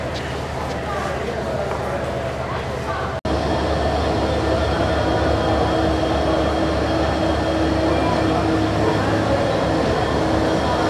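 Paryatak Express train pulling out of Dhaka bound for Cox's Bazar, a steady dense rumble of rail travel heard from on board, with a brief dropout near the start and faint voices mixed into the noise.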